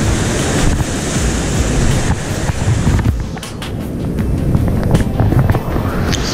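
A big set of ocean waves rolls in on a rough autumn swell, surf roaring loudly with heavy wind buffeting the microphone throughout.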